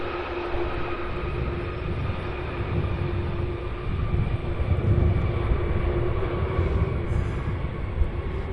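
Steady jet engine roar from a 33-year-old Boeing 767-300 at Cincinnati's CVG airport, a continuous broadband rumble with a faint whine, moderately distant and holding level for several seconds with no talk.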